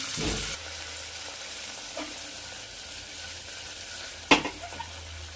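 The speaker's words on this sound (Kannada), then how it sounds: "ಸ್ವಲ್ಪ ಕರ್ಬೇವು ಸೇರಿಸ್ಕೊಂಡಿದ್ದೀನಿ ಹಾಗೆಯೇ ಈರುಳ್ಳಿ ಹಾಕ್ಕೊಂಡಿದ್ದೀನಿ ಸ್ನೇಹಿತರೆ ಇದನ್ನು ಚೆನ್ನಾಗಿ ಫ್ರೈ ಮಾಡ್ಕೊಳ್ಳೋಣ" Curry leaves and onions fry in oil in a cooker with a steady close sizzle, a few stirring scrapes and a sharp clink of a utensil against the pot near the end.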